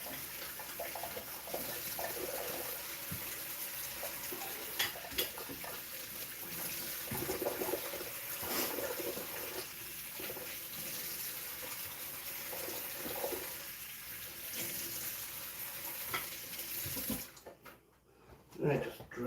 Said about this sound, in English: Just give them a quick rinse.